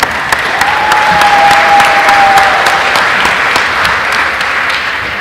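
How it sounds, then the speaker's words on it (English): A youth civic convention audience at a state party runoff event claps steadily in a loud, sustained ovation filling the hall, with a faint whistle-like tone briefly riding over it early on. "Let's give them a big round of applause."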